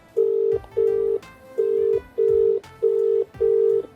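A phone ringback tone repeats six times, steady evenly spaced beeps with short gaps between them, clear and close.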